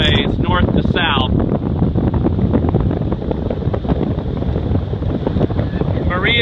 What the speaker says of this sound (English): The wind is straight out of the north that way.